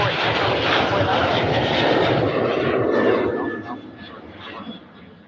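American Airlines airliner on its takeoff roll at Cleveland Hopkins International Airport, fully loaded: a loud, steady broadband jet engine roar that holds strong, then fades as the aircraft pulls away, with talk over it.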